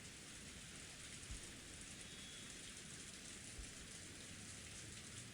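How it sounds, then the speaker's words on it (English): Steady rain effect from the visual novel game Umineko no Naku Koro ni, a continuous soft hiss of falling rain with a couple of faint low thumps, quiet and unbroken. "It had begun to rain later than the weather report had predicted."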